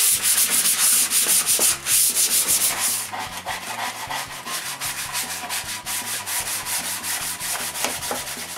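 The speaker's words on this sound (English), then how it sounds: "The last sanding is done by hand." Hand sanding on a wooden home theater stand, steady back-and-forth rubbing strokes close up, harsher and brighter for the first few seconds, then continuing slightly softer and more rhythmic.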